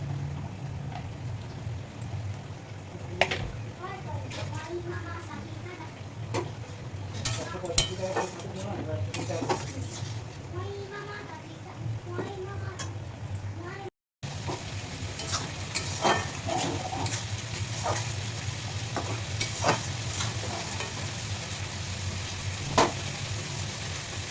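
Pieces of fried fish go into a pan of cooking vegetables, giving a soft steady sizzle with scattered stirring clinks and scrapes throughout.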